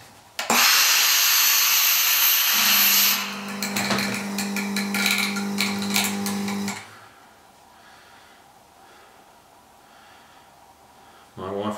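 A steam iron shapes the brim of a wet felted fedora, giving a loud burst of hissing steam, then a rattling, buzzing stretch before quieter room sound with a voice.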